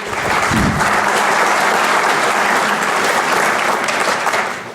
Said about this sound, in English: So with some great applause